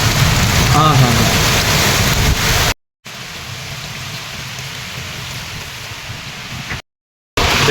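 A heavy village storm with strong wind and pouring rain roars in a loud, steady downpour, broken by two brief silent cuts, while a voice speaks faintly under the noise early on.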